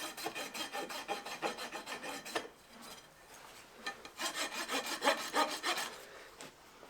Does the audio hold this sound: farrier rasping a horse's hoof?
yes